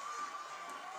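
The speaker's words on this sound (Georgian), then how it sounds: "ხედავთ გესმით ალბათ გულშემატკივრების ხმაც." Football fans roar in a steady, dense crowd wash after a late penalty goal at a Dila versus Telavi match, heard briefly as sustained cheering.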